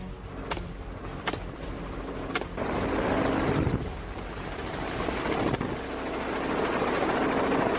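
Helicopter used for aerial feral pig hunting drones loudly and steadily overhead, a continuous engine and rotor roar with a few sharp clicks early on, rising in intensity midway and staying close.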